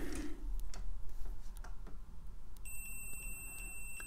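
A multimeter gives a continuity test beep on a circuit board in an EG 2000 Colour Genie computer, a steady high tone entering near the end over faint ticking handling noise.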